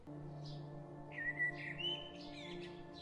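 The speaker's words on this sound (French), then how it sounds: "le rouge-gorge d'Europe" European robin calling: thin high whistled notes and quick twittering phrases, fairly clear over a low steady hum, with no one talking.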